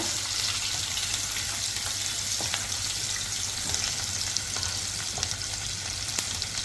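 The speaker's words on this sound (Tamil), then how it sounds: "பெரிய வெங்காயம் சேர்த்துக்கிட்டு கொஞ்சம் நல்லா வதக்கி விட்டுக்குங்க" Large onions sautéing in a pan while cooking a crab fry, a steady close sizzle with occasional stirring scrapes and a faint low hum underneath, no voices.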